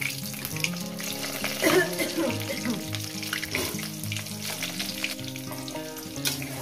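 Diced potatoes sizzle steadily in hot oil with cumin seeds and bay leaf, frying for a Bengali chicken kosha; the crackle sits close and continuous over a sustained tonal background.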